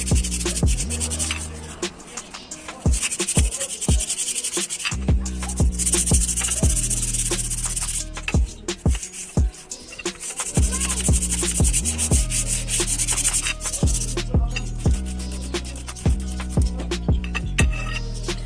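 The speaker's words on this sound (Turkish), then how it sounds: "zımpara yaptım" Wet sandpaper rubbed by hand over a bicycle handlebar to key the surface for paint, giving steady close scraping strokes with small clinks, continuous and loud with no talk.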